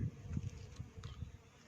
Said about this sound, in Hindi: बिनबिनाहट भी आपको शायद सुनाई दे रही हो।